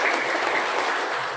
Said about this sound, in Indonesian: Tepuk tangan buat istri saya Bapak Ibu.